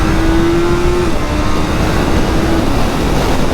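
A BMW S 1000 R or M 1000 R motorcycle engine revs at low rpm, a loud, continuous roar with a faint steady whine early on and no talking.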